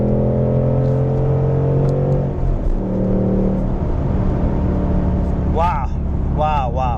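A Ford Mustang Mach 1 engine hums and rumbles at a steady pitch, then eases off and shifts, close and loud, with a person speaking over it near the end.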